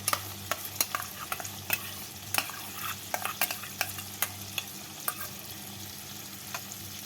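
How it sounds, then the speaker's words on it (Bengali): Potatoes being stirred into whipped sour curd in a bowl for a Bengali white potato curry, giving a steady wet scraping and clicking of a spoon with repeated sharp taps, close and clear, with no talking. "এবার আলুর সাথে ভালো করে মিশিয়ে নেব"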